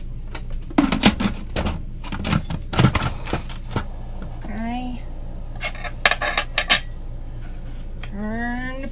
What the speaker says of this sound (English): So let's put the lid back on it.